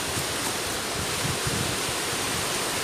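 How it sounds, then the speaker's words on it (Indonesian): Steady broadband wash of surf, continuous and fairly loud, with a low rolling rumble that swells slightly; no voices. "itu suara ombak ya"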